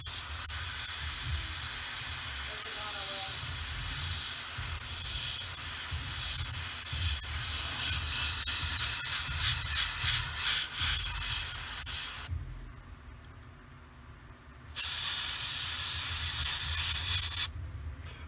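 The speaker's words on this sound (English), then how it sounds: "So I'm going to spray that up real quick and then come back." An aerosol spray can hisses steadily while painting the seats of a plastic Tamiya 2½-ton 6x6 cargo truck model. The hiss cuts out briefly for a short pause, then resumes.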